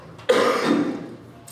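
A single short cough or throat clearing, fairly close and moderately loud, during a church sermon.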